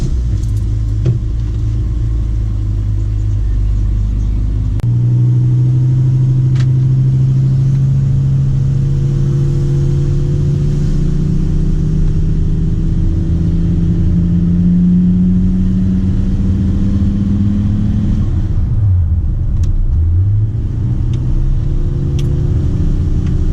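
Volkswagen Touareg fitted with cone air filters while driving, a loud in-cabin engine drone that rises steadily under acceleration, then drops as the throttle is lifted and builds again, with a few light rattles and no talking.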